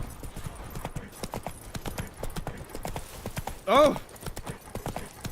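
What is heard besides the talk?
horse Roach walking, hooves, from video game The Witcher 3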